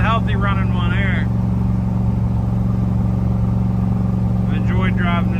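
A restored 1965 Corvette with a 396 cubic-inch, 425-horsepower big block V8 idles with a loud, steady, deep rumble, while someone talks briefly over it at the start and end.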